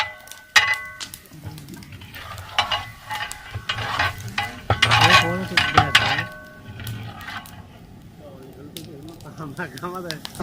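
Browned onions frying in a large pot for village-style degi chana pulao, with sizzling and metal stirring scrapes and clanks, near and moderately loud, under talking voices.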